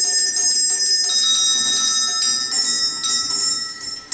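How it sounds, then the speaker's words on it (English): Servant call bells in the kitchen of a historic house are tapped one after another, giving bright, ringing metallic tones that overlap and sustain close by, with no talk. "they drop to a different bell from each room, and they tug on a wire by turning the handle"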